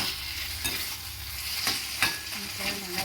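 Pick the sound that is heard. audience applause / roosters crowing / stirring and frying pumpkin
stirring and frying pumpkin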